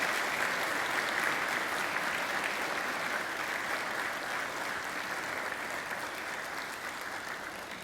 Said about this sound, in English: now I invite you to give them a mighty round of applause.